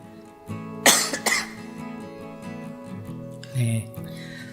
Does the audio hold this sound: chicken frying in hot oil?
no